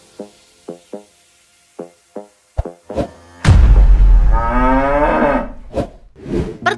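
A cow moos loudly and long up close after a series of short, evenly spaced knocking thumps, followed by a few softer trailing calls.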